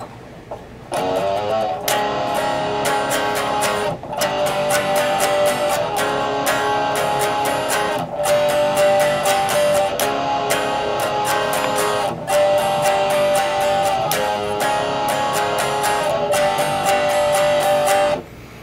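Steady guitar power chords played continuously for a long stretch, with brief clipped pauses where the strings are muted, close and moderately loud.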